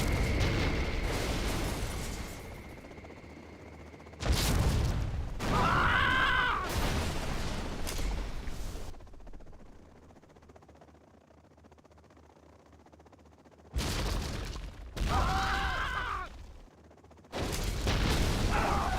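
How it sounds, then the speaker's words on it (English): A particle cannon fires in C&C Generals Zero Hour, with loud booming blasts and crackling bursts that recur between quieter stretches of rumbling battle noise. "Particle cannon activated."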